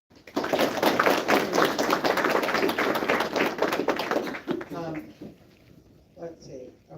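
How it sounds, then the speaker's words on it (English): Dense applause from an audience at a Coryell County sheriff candidates' debate, steady clapping for about four seconds before fading, followed by a few quiet voices. "give a round of applause to our Coryell County Sheriff race candidates"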